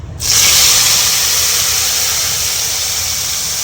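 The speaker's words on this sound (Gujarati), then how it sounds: "અને હવે જે આપણે જે ગ્રેવી કરી હતી ડુંગળી ટમેટાની, એ આપણે આની અંદર એડ કરવાની છે." Onion-tomato gravy hits a hot pan and sizzles, a loud, sudden hiss that starts abruptly and holds steady, slowly easing over a few seconds, with no talk.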